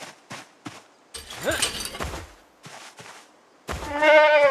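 In Project Zomboid, scattered impacts and scuffling sounds, then a male sheep bleats loudly with a quavering, nasal cry at the end.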